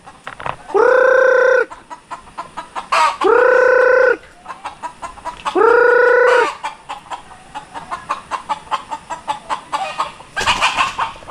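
Chickens of labuyo (native jungle fowl) stock cluck and a rooster crows loudly three times nearby, with busy clucking and scratching between the calls.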